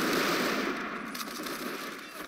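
Rapid machine gun fire in Men of War Assault Squad 2, a dense continuous rattle of shots lasting a couple of seconds over game ambience.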